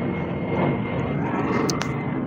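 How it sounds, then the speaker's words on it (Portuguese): A steady airplane engine roar passes overhead, a broad continuous rumble at moderate distance with no voices. "começa a passar avião"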